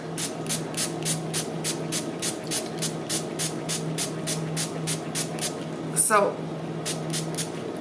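A rapid series of short spray bursts, evenly spaced and close by, spraying excess colour out of a bath bomb mold into a pot, with a brief clatter near the end and a person speaking briefly.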